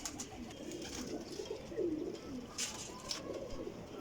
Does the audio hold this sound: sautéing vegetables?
no